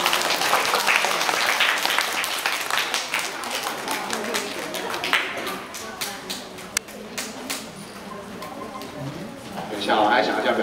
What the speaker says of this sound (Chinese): 我们掌声鼓励一下